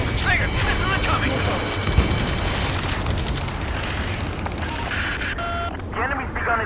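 An incoming missile explosion during an Ace Combat 7 air battle, a sharp burst amid steady jet engine roar, with cockpit warning tones and radio voices talking over the mix.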